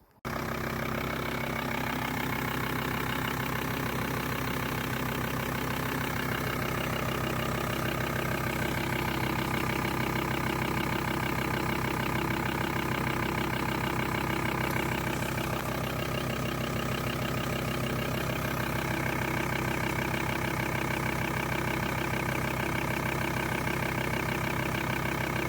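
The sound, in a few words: Volkswagen T4 diesel engine starting and idling after fuel filter change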